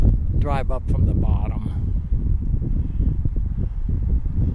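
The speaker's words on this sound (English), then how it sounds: "it's going to be really windy" Heavy low wind buffeting the microphone at a dam on Santa Cruz Lake, New Mexico, a steady roar under someone talking at the start.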